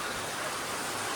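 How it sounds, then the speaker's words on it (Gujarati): Heavy rain pours down outdoors in a steady, dense broadband wash that stays even and close, with no voices over it. "જબરજસ્ત વરસાદ પડે છે"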